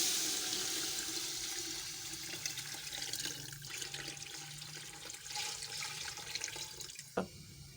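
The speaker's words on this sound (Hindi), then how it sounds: "अब इसमें हम पानी शामिल करेंगे।" Water from a jug poured into a pot of cooked masala for a paye recipe, a gushing splashing pour that fades gradually, ending with a short clunk.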